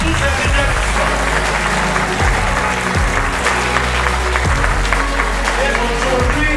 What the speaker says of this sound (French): Je voudrais vous demander d'applaudir très fortement tous ces lauréats qui sont là